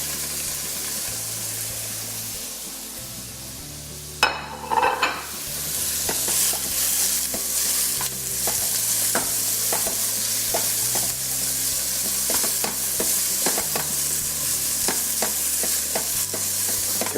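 Snow peas sizzle in oil in a pan for a tomato basil mushroom pasta, with a steady frying hiss. A brief clatter is followed by repeated sharp stirring scrapes and crackles, all close and with no voices.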